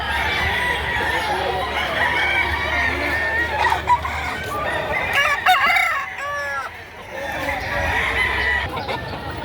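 Chickens and roosters at a livestock market in Padre Garcia, Batangas, with roosters crowing repeatedly and hens clucking close by, under a busy crowd of voices and people talking.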